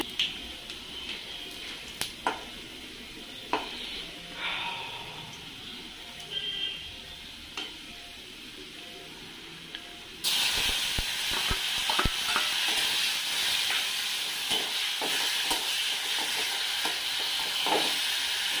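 Garlic frying in a pan, a soft crackling sizzle with occasional stirring clicks, growing into a louder, steady hiss partway through as something is added.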